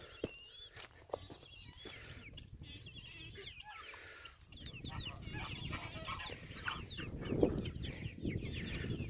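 Chickens cluck and murmur near and far in a farmyard, with soft footsteps and rustling beneath them. The sound grows busier in the second half and there is no clear speech.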